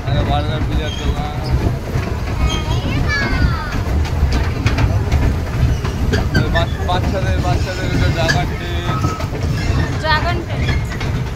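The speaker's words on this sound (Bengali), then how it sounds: "dragon train" A children's dragon train ride rumbles along at an amusement fair with a continuous clattering, rolling drone amid busy crowd noise, while people talk over it in the foreground.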